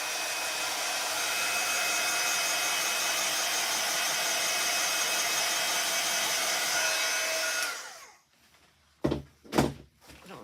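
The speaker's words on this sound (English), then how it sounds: "I'll just put a bit of heat on it" A heat tool blows steadily with a loud, constant whirring hiss while drying ink on a card, then switches off, followed by a few sharp knocks and thuds.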